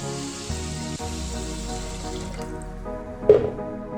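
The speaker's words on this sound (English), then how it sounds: "the next thing I'm going to add is water" Water being poured into a cooking tin of green grams, a steady gurgling pour with a resonant, rising tone and a small splash near the end.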